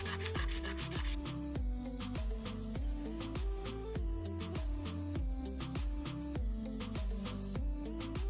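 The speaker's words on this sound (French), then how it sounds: "je vais venir commencer à limer" Nail file rasping against a ballerina-shaped nail form, a steady rhythmic back-and-forth scraping of short strokes, close and consistent, with no talking.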